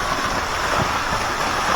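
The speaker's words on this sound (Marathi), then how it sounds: "ॲमेझॉनच्या जंगलात आम्हाला छोटासा वॉटरफॉल म्हणजे धबधबा बघायला भेटले" A small waterfall on the Harishchandragad trek pours in a steady, dense rush of falling water, close and loud, with no voices over it.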